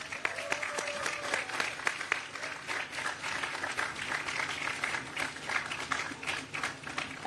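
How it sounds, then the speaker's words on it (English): Sustained applause from an audience, dense clapping filling the room for several seconds without letting up. "So a round of applause, please."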